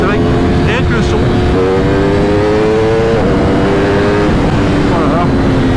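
An Aprilia RSV4 RF sport motorcycle engine roars close by, its pitch climbing through quickshifter gear changes under loud wind noise, with a voice talking over it.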